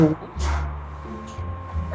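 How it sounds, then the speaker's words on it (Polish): A pet dog barks loudly in a few short bursts indoors, mixed in with a person talking and a steady electronic hum. "I mój pieseł się drze"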